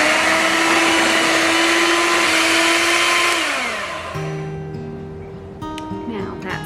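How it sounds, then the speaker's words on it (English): Electric blender whirring loudly and steadily while blending chocolate and oil into dairy-free brownie batter, then its motor winds down and stops, leaving a faint background hum and a few light clicks. "Now we're going to blend those in."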